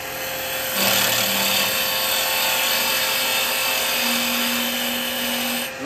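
A woodturning lathe whirs steadily while a carbide chisel cuts a tenon into the end of a spinning wooden goblet, giving a close, continuous high scraping hiss with faint tonal whines, no talking.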